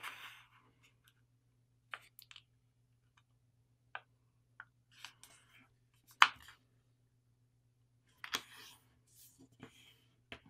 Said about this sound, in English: I want to fold the top edge to land on that folded edge